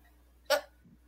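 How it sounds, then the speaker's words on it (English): One short, sharp burp-like gulp, close and fairly loud, followed by a faint low grunt in an otherwise quiet room. "You burped again."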